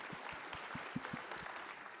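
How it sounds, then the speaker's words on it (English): Clapping from an audience at a housing policy conference plenary session, heard as faint, sparse individual claps at a slow, uneven rhythm. "You can clap, why not?"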